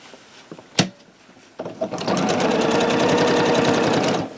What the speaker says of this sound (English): And I'm going to sew down this side.